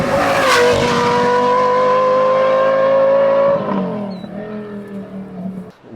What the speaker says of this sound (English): It's like we took the Italian V10 and gave it a proper stage to perform on.